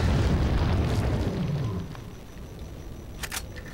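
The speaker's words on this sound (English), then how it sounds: "Feel like blowing up barrels." A barrel blows up in Resident Evil 4 Wii Edition, a booming blast with a low rumbling tail that fades over about two seconds, followed by a quieter crackle and a brief sharp pop.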